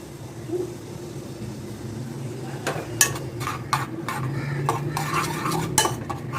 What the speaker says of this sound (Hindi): अब इसी में मैं शामिल कर दूंगी लहसुन। सिर्फ 2 मिनट हमें इसे पकाना है।